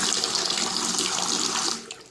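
Water runs steadily from an old-style hotel bathroom sink faucet at a Lake Tahoe lodge, a continuous broadband splashing that holds at a moderate level before tapering off near the end.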